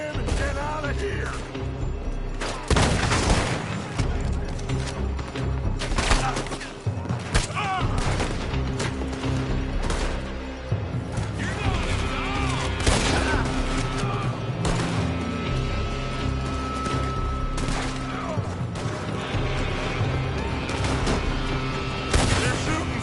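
A loud, sustained firefight in Red Dead Redemption 2 fills the clip with overlapping rifle and pistol shots, rapid volleys and heavy booms, and voices shout over the gunfire.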